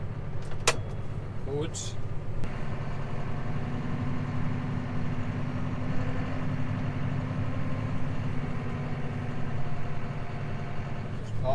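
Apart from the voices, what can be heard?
farm tractor engine starting and running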